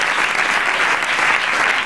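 A studio audience applauds steadily at a Spanish comedy improv show, a dense, even wash of clapping at full loudness throughout with no speech over it.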